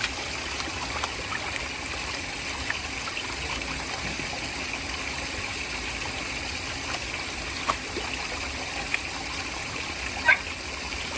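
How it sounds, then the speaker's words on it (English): Gold concentrate being panned in water in a new gold pan after a Keene KT10 trommel run, giving a steady watery swish and trickle with a few small splashes and clicks, no voices. "So let's pan this down real fast."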